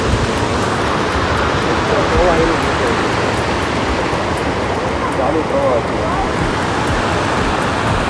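Steady, dense rushing water fills the whole stretch, a continuous broadband roar like a nearby river or falls, with no pauses or other sounds standing out.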